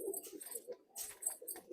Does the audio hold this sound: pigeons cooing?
yes